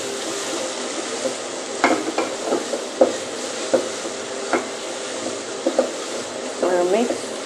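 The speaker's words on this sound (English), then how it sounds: "After adding the carrot, I'll heat it." Carrot stirred and heated in a pan for carrot rice, a steady frying hiss under repeated spoon scrapes and clinks against the pan, close and moderately loud, with a few brief voice sounds.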